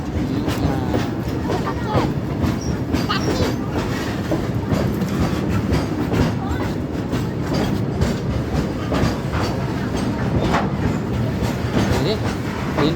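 A train rolls past close by, giving a loud, steady rumble with rhythmic clickety-clack from the wheels throughout, while a person talks over it.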